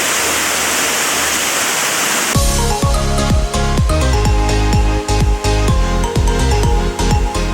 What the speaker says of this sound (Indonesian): Dan mari kita nikmati air terjun tingkat 3.